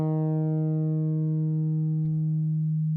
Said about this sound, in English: The sawtooth without resonance sounds like this.